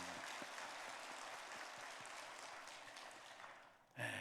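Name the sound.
applause for the choir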